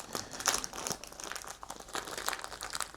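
Crinkly, sticky packaging being pulled open around laser-cut MDF puzzle sheets, a close run of crackling and tearing rustles with no talk.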